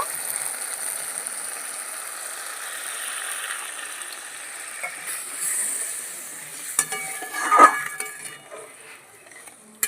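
Water poured into frying mustard spice paste for a pabda fish curry, setting off a continuous hissing sizzle that swells with a louder burst and some pan clatter near the end.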